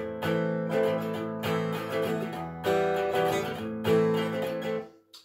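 Acoustic guitar strumming a chord rhythm at a quicker pace, alternating major and minor chords, steady and close with repeated strokes and no talking.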